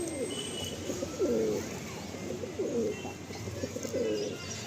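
Malwai pigeons, paired up with eggs and chicks in a loft, coo in several repeated throaty rolling phrases, moderately near, over a low steady background hum.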